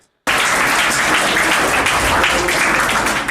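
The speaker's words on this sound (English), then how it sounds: "please clap for each and every student over here" A school audience at an intra-school English debate competition claps loudly for students, a sudden full burst of dense applause that holds steady to the end.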